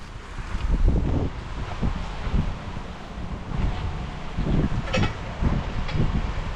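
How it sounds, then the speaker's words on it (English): Strong, steady wind on an ocean beach roars across the microphone in gusts, with rumbling buffeting throughout and a distant wash of rough surf underneath. "Windy today."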